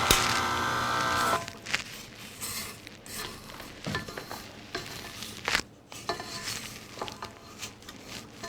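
Spatula scraping gingerbread icing down the sides of a mixing bowl, a burst of dense scraping at first, then scattered soft scrapes and clinks, close and fairly quiet.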